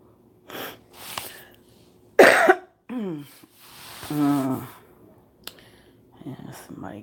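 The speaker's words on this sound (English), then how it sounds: "somebody gave me their cough." A person coughs several times in short, separated bursts, with a rough, raspy throat-clearing quality between quiet pauses; the coughs are close and fairly loud.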